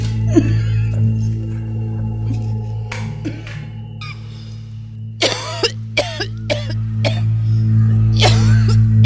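A person with a two-week dry cough coughs several times in short, sharp bursts, close and loud over a steady background hum, with brief throat clearing between fits.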